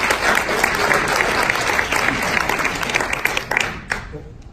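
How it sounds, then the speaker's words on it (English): A meetup audience breaks into loud, sustained applause, dense clapping from a full room that carries on for several seconds before tapering off near the end. "Let's give those guys a round of applause."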